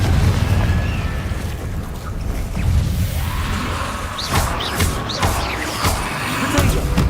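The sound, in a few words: Confringo spell blast exploding in video game Hogwarts Legacy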